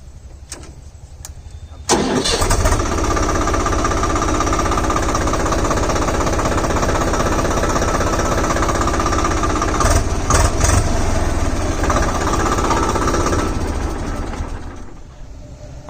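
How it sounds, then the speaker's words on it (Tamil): A Swaraj 843 XM four-wheel-drive tractor's diesel engine fires up after a short quiet stretch and settles into a loud, steady, rattling idle heard up close. It runs without talk until it fades near the end. "XM மாடலில் இன்ஜின் சவுண்ட் எப்படி இருக்குன்னு பாருங்க"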